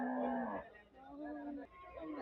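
Cattle at the Gabtoli livestock market in Dhaka give a few low, drawn-out moos close by, with crowd noise and people talking in the background.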